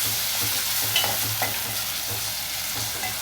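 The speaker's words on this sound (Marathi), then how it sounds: "कांदा आणि लसूण शिजून झाल्यावरती टॉमॅटो टाकलेला आहे" Onion, garlic and tomato fry in a pan with a continuous close sizzle, broken by occasional scrapes and clinks of a spoon stirring.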